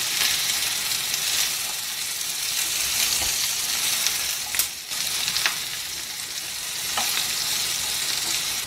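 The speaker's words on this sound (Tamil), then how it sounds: "அடுத்தது இந்த பீர்க்கங்காயை போட்டுக்கலாங்க." Ridge gourd frying and being stirred in a hot pan, a steady bright sizzle with occasional scraping stirs, loud and close.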